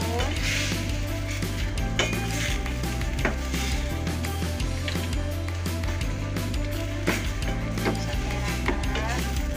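Green chilies are stirred into tauco in a pan, with dense, rapid clatter of a utensil scraping and knocking against the metal over a constant low hiss of cooking.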